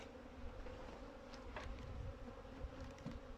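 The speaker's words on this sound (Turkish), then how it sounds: "Arılar çok fena saldırmaya başladı." Honeybees swarm around an opened hive during winter feeding with Konya sugar bee feed, a dense, steady, agitated buzz close to the ear, with individual bees zipping past.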